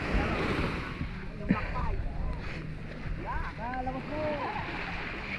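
Strong ocean waves surge and wash in a continuous roar, buffeted by wind noise on the microphone, with people talking and calling out over the surf.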